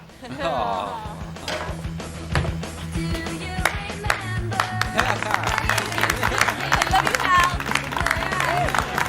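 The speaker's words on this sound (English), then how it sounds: "famous and dramatic slow clap building to thunderous applause" Slow, dramatic clap swelling into thunderous applause in a TV sitcom scene, dense clapping and crowd noise building across the clip with music and voices underneath.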